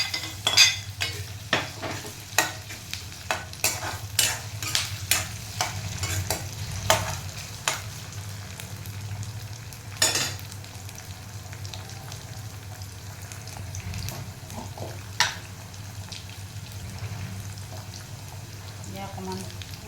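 Food frying in a pan is stirred with a utensil, sharp irregular scrapes and taps rising over a low continuous sizzle, with a voice speaking now and then.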